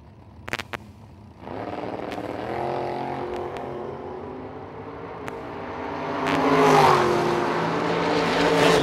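Drag racing run with an S10 pickup truck and a second-generation Camaro: a loud, sustained engine roar that builds and swells toward the end, with no talk over it.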